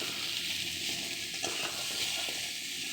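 Dry chillies and panch phoron spices sizzle steadily in hot oil, a close, continuous hiss with faint crackles and no voices.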